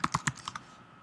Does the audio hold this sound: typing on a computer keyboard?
yes